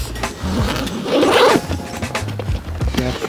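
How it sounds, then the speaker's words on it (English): An original leather saddlebag on an FXR motorcycle is pulled open by its lever: a short scraping, rasping release swells in the middle, with a few soft handling knocks before and after. "You just pull this lever up. You can open them"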